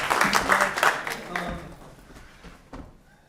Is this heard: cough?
no